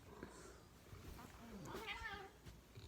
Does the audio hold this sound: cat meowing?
yes